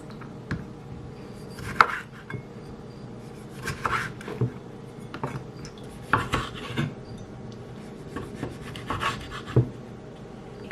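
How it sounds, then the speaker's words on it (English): Knife slicing cherry tomatoes on a cutting board, a run of close, moderately loud cuts and taps against the board with short pauses in between, no talking. "I have some more here, some cherry tomatoes. And I just slice them up."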